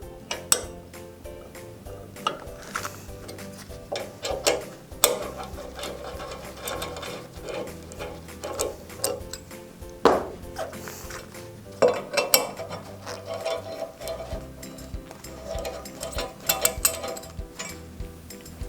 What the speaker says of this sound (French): On retire maintenant les vis corps-chapeau.